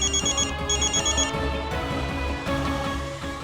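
A telephone rings in a home during a family sitcom scene: a repeating electronic ringtone pulses in short bursts, blended with a dense musical background, with no talking.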